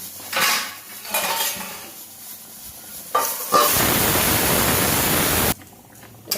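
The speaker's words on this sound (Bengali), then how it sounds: "ঢাকা দিয়ে দিচ্ছি" A metal lid clanks onto a cooking pot in a home kitchen while rohu fish bhapa is being prepared, a few sharp clinks followed by a loud hissing burst that cuts off abruptly.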